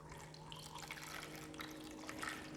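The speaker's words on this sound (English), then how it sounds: "And we're gonna add some hot water to this." Hot water pours or trickles steadily into a container being filled for retrobrighting old plastic, a faint, continuous liquid splashing and gurgling with no voices.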